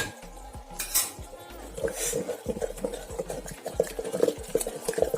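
Cooked eggplant is mashed in a clay pot to make kathirikai kadaiyal. A utensil gives irregular scraping, knocking and clinking against the pot, growing busier toward the end, heard close up over faint background noise.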